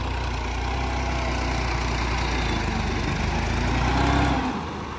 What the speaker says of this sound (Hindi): तो छोटा ट्रैक्टर तो जनाब अगे छोटा ब्लेड